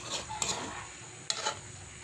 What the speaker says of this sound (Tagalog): Halo-haloin natin siya guys para hindi siyang masunog.